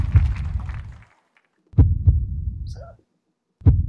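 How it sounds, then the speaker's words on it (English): A deep, heartbeat-like thumping pulse in a song from a televised singing competition, booming low hits in repeated bursts with short gaps between, loud and prominent with faint other musical sounds in the pauses. "It's like a heartbeat."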